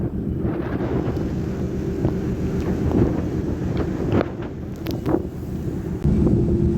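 Strong wind buffets the microphone on the open deck of the ferry to Yell in Shetland, a steady loud roar with occasional gusts and a low engine rumble beneath.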